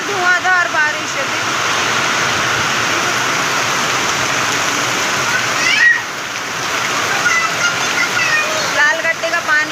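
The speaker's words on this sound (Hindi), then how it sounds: "इतनी तेज़ बारिश हो रही है, बहुत ही ज़्यादा तेज़" Very heavy monsoon rain pours down steadily outdoors in a continuous loud roar of splashing water, with runoff streaming, and people talking faintly in the background.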